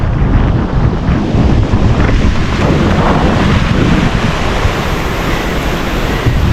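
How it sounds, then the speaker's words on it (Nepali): Wind and ocean surf on the seashore at Eydhafushi in the Maldives: a steady, loud, broadband roar of breaking waves and wind buffeting the microphone, continuous throughout with no talking. "अहिले चाहिँ म समुद्रको टिरमा छु गाइस, तपाईँहरूलाई देखाउँदैछु समुद्रको दृश्य"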